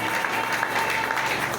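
A church congregation claps and applauds during a Sunday worship service, a steady dense wash of applause throughout with no break.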